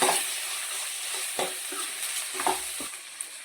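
Ginger-garlic paste, garam masala and coriander powder frying in a pan for mutton curry, a steady close sizzle with a few scraping stirs of a spoon against the pan.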